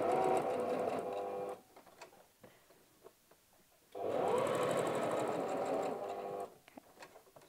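A sewing machine runs two steady stitching bursts through a layered fabric wallet, with a short back stitch to secure the seam. A quiet pause of a couple of seconds separates the bursts, and both are close and fairly loud.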